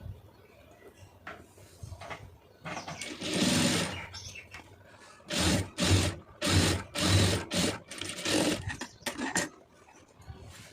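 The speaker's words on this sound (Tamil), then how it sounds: "இந்த மாதிரி கரெக்டாக வச்சுட்டு வந்து இந்த ஒட்டில் வந்து தையல் போட்டுருங்க" Sewing machine stitching the side seam of a blouse, running in several short loud bursts with brief pauses between, a mechanical rattling whir close to the microphone.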